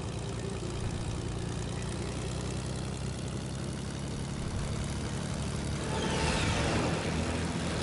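A propeller airplane flying overhead in a video game, a steady loud engine drone that fills the whole stretch and swells slightly near the end, with no talk over it.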